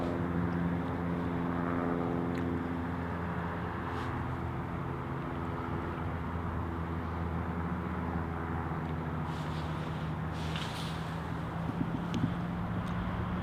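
An Alaska Airlines jet, the 175 flight bound for San Francisco, hums with a steady, droning engine tone at Paine Field in Everett, Washington. The sound stays constant and moderately distant throughout.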